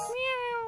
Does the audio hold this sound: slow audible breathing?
no